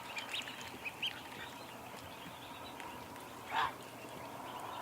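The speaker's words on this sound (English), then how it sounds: "Good morning, ducks!" A few faint ducks quack from a distance in a quiet yard at morning, with one louder call near the end over a steady low background hum.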